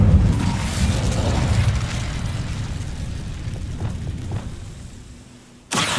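The Incendio fire spell cast in Hogwarts Legacy, a loud low roaring blast that slowly fades over several seconds before a sudden sharp sound near the end.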